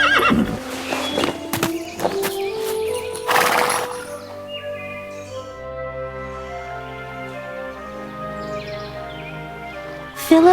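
Animated horse ridden by a prince in a Disney Sleeping Beauty story, giving a loud whinny over a few sharp hoof clip-clops, then quieter sustained orchestral music fills the rest.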